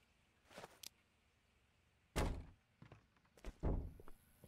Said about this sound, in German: muss halt Türen knallen